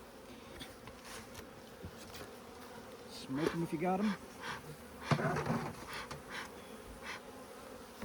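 Honey bees hum in a steady, close buzz at a hive in Alaska, while a person speaks briefly in the middle.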